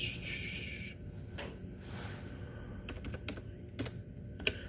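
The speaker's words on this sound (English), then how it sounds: "I just got to write this down real quick" Quick writing or keyboard tapping indoors, a run of sharp light clicks and taps clustered near the end, moderately close over a low steady room hum, with no voices.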